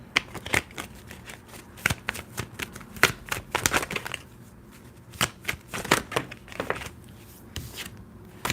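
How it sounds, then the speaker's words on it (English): Tarot cards being shuffled by hand at close range, bursts of crisp riffling and slapping in an irregular rhythm with brief pauses, no voices. "It takes a minute for me to shuffle to get into the energy."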